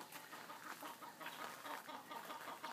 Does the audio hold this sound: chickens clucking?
yes